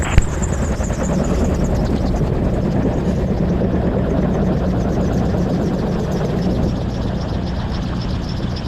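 An autogyro taxiing to the fuel point at an airfield, its engine and rotor making a steady, loud, continuous drone that holds evenly throughout with no pauses.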